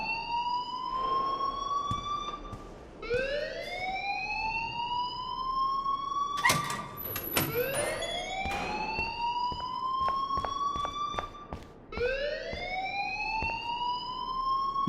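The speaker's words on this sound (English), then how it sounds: "please turn off that alarm since that's your job" Loud electronic school alarm in the game Life Is Strange, repeating rising wails that sweep upward and hold, three cycles over the span, with a few sharp clicks and bangs in between and no talking.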